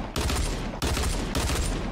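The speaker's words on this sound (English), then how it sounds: "I don't even know why I'm shooting" Fortnite gunfire in three loud, dense bursts of rapid shots, close and harsh, separated by brief breaks with no talk.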